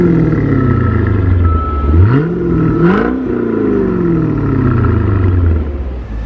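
A high-mileage C5 Corvette with 528,000 miles idles with a deep, loud exhaust rumble, briefly blipped twice to rise in pitch before settling back to a steady burble.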